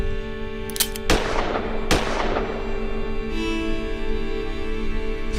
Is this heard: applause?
no